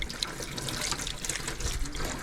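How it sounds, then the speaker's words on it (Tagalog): Spring water in a forest flows in a steady, close, gurgling rush that fills the whole moment, with no voices over it. "Bukal na tubig ano."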